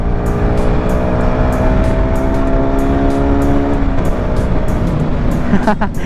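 Car engine droning steadily on the road during a Santa Felicitas road trip, with sustained engine harmonics and loud wind-like road noise throughout; a loud motor behind the car is mixed in, and an engine pitch shift comes near the end.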